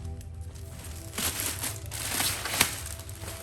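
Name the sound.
plastic bag crinkling while unboxing Coach handbag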